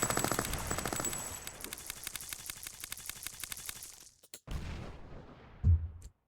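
A tank's gun fires in a CryEngine 5.7 first-person shooter demo, a long string of rapid, evenly spaced blasts over a rumbling engine, then a brief gap and a few separate heavy booms.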